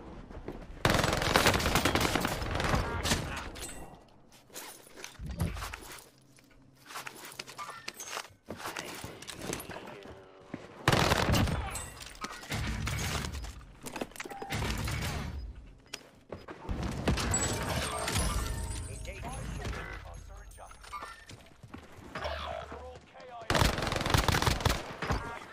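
PPSh submachine gun fired from the hip in a video game, heard as repeated bursts of rapid automatic fire separated by short pauses, with voices talking at times between and over the shots.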